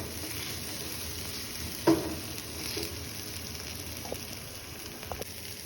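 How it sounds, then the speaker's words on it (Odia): Onions fry in a pan for a jackfruit curry, giving a steady close sizzle with a few light clicks of a spoon against the pan, and no talk. "ପିଆଜ ଭାଜି ଆସିଲାଣି"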